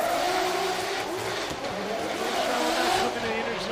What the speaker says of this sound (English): 2J powered Lexus RC coming in hot.